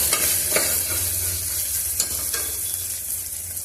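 Ginger garlic paste frying and being stirred in a pot, with a dense close sizzle and a few sharp utensil scrapes over a low steady hum, no voices.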